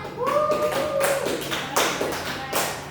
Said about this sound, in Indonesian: tepuk tangan untuk Adel.